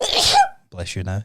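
A single sharp sneeze bursts out close to the microphone, followed after a short pause by a person speaking.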